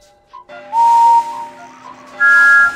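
Green steam engine Henry's whistle in a Thomas & Friends PC video game, sounding as several shrill blasts that step up in pitch with brief gaps between them, loud and close with nothing else around.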